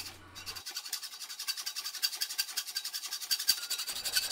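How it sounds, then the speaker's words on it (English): A hand file rasps over a hacksaw-cut aluminum bar in fast, even back-and-forth strokes, a rhythmic metallic scraping close up with no talk. "After making all of the cuts, I cleaned everything up with a file."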